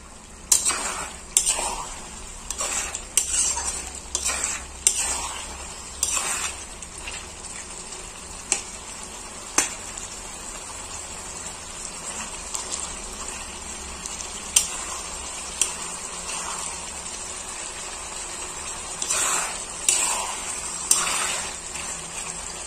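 Pork frying in oil in a pan, a faint, steady sizzle broken by scattered sharp clinks and scraping of utensils against cookware.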